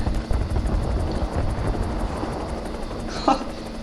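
Enemy aircraft in War Thunder give off a continuous engine drone, with a short louder burst near the end.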